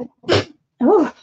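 A sudden sneeze bursts out nearby, a brief breathy explosion followed by a short voiced exclamation.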